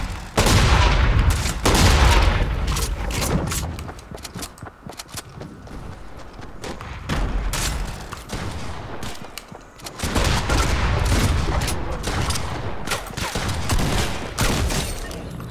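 Proximity grenade launcher rounds in Fortnite go off in rapid bursts of loud blasts and crackling gunfire, dropping to a calmer lull midway before another dense barrage.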